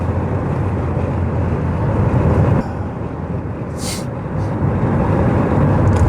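Rover 400 Tourer driving on a road, a steady loud broadband rumble of engine, tyres and road noise filling the whole clip, with a brief dip in level partway through and no talking.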